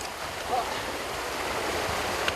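Waves wash against coastal rocks near a seaweed-harvesting shore, a continuous close surge of broadband water noise with wind, no distinct breaks.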